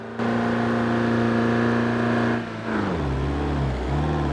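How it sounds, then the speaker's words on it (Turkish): A Ford Transit van engine in BeamNG Drive revs loudly in a steady droning roar, then the pitch drops as the revs fall and settle into a lower hum. "Araba da bayağı bir bağırıyor kardeşim."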